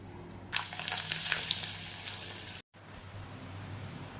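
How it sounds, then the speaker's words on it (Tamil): Radish vadai fry in hot oil with a steady, close sizzling hiss that jumps up as the batter goes in, then settles into a softer bubbling, with no talk. "இப்போ நல்லா பிசைஞ்சாச்சு வடை தட்டி போட்டுக்கலாம் எண்ணெய் ஊற்றி சூடு பண்ணியாச்சு"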